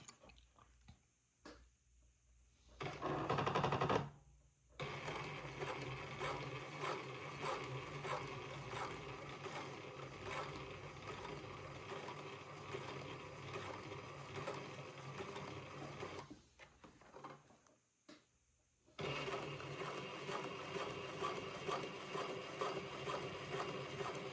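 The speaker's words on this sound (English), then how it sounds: "I'm going to sew the first basting thread along the top" A sewing machine stitches a basting thread along the top edge of a quilt project in long, rapid mechanical runs with brief pauses between bursts, close and clear with no talk.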